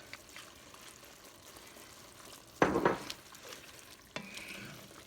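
French onion soup with Worcestershire sauce stirred in a pot, a faint low simmering bubble under a quick louder burst of stirring and sloshing near the middle and another brief clatter toward the end.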